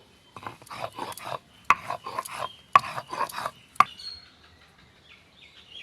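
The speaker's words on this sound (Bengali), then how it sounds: "এবার পোস্তগুলো বেটে নিব" Soaked poppy seeds ground into paste on a stone for a ridge-gourd poppy-seed dish, heard as a close run of rhythmic rasping, scraping strokes punctuated by a few sharp knocks, with no talking.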